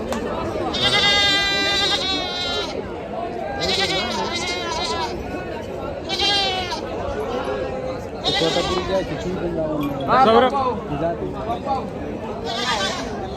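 Osmanabadi goats bleat repeatedly from several directions amid the murmur of a busy crowd at a goat market, calls overlapping with background chatter.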